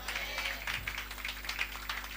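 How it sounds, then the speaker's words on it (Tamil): A church congregation claps their hands during a Sunday service, a dense, uneven patter of many hands that stays moderately loud and steady throughout, with no clear talking on top. "கைத்தட்டி"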